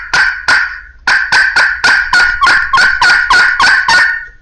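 A turkey call sounds a rapid run of loud, raspy yelps, about a dozen in steady rhythm, imitating an angry hen calling back.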